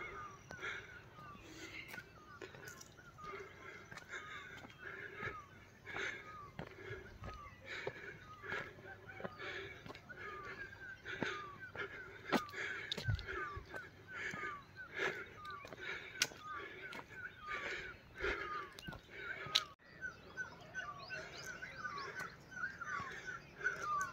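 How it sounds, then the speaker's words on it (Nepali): Birds and crows call repeatedly along a hillside hiking trail to a Kali temple near Pokhara, short scattered caws and chirps over light rustling and footsteps, moderately near, with no talk. "चराहरू कराएको सुन्नु भएको छ नि"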